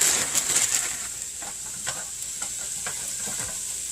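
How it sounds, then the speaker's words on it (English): Packaged stir-fry vegetables with broccoli, snow peas, carrots and red cabbage hiss and sizzle in a hot pan, with a spatula stirring and scraping in quick, irregular strokes close by. "Let's add our other vegetables from the stir-fry pack."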